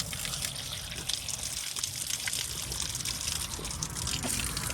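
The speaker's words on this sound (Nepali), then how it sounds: "यता पानी हाल्छु म" Water is poured out by hand in a village outdoors, making a steady, close splashing gush that runs for several seconds without a break.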